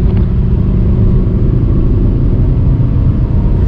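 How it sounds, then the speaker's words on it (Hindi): A Volkswagen Polo engine held in fourth gear and pulled toward the red line, a steady, loud, dense rumble of engine and road noise that holds unbroken from start to finish. "फोर्थ गियर लगा हुआ है, एक बार फिर से रेड लाइन को टच करके देखेंगे"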